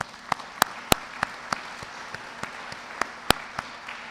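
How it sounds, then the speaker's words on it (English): An audience at the 2024 Migrant Education Awards Ceremony claps sparsely: about a dozen separate, sharp hand claps spread unevenly over four seconds, fairly faint against a quiet room. "Let's get her another round of applause."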